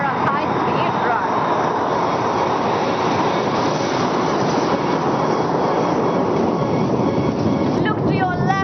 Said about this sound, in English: Wing Commander Varun will now bring the mighty flanker for a high-speed run.